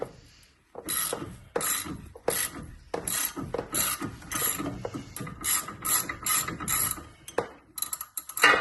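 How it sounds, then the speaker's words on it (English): Ratchet wrench works a nut loose on a Honda Pilot's front axle area, giving repeated close clicking pawl bursts in rapid back-and-forth strokes with brief pauses between. "I'm gonna grab the ratchet"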